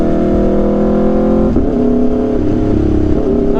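Aprilia RSV4 motorcycle with an SC-Project CRT exhaust revving steadily, a loud, close, rasping drone with slight pitch shifts throughout.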